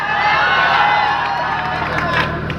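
A large crowd at an outdoor political rally claps and cheers in a dense, sustained roar of applause with mixed voices, loud and continuous throughout.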